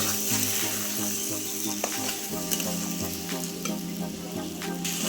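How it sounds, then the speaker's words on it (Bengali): Soaked sago fries in hot ghee under constant stirring, a continuous close sizzle overlaid with repeated scraping strokes of a spoon against the pan. "ঘিটা দিয়ে অনবরত নাড়াচাড়া করে সাবুটাকে ভালো মতো ভেজে নিচ্ছি"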